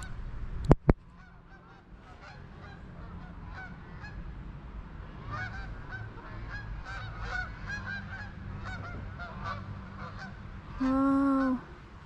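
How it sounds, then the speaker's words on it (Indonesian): A flock of geese flying overhead near a house gives a run of honking calls through the clip, building to a loud, close burst near the end, with a sharp knock early on. "Tuh burung-burung banyak banget"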